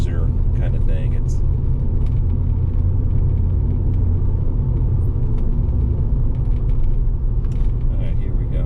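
A 1991 Porsche 928 S4 on a road drive, its steady engine and road rumble droning continuously with occasional creaks and mechanical clicks inside the cabin.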